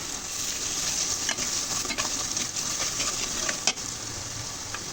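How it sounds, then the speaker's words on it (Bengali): Chopped onion frying with chili, turmeric, spices and salt in a pan, a steady close sizzle with scattered clicks of stirring throughout. "এখন পেঁয়াজ কুচি ভেজে নেব।"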